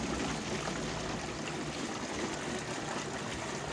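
Filtered rainwater pours from a homemade watering can onto plants, a steady close trickle and splash running without pause, no voices.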